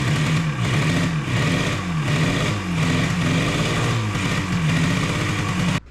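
A 1973 Yamaha motorcycle engine, newly restarted after sitting for 30 years and still in need of carburetor work, runs close by with a loud, lumpy idle that surges in regular waves before cutting off.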